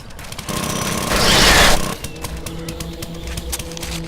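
A handheld auger drilling into a pig in the survival game 7 Days to Die, a loud, harsh mechanical grinding rattle that swells for about a second and a half, then drops to a lower churning buzz.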